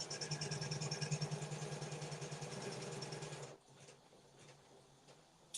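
A home embroidery sewing machine stitches a bow wall hanger design with a steady, rapid mechanical chatter for about three seconds, then stops, leaving faint handling noises and a final click.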